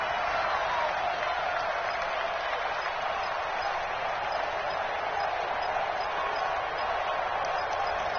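A large crowd roars inside a domed stadium during a football game, a dense, steady wash of cheering noise that holds at an even level for the whole stretch.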